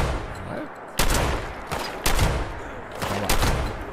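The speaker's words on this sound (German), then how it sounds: "mit einer Level 50 Rotflinte brauchen wir 5 Schuss, um einen Level 1 Verbrannten vom Dach zu schießen." A Level 50 shotgun fires in the video game Fallout 76, four loud blasts spaced about a second apart, each with a sharp crack and a short decaying tail.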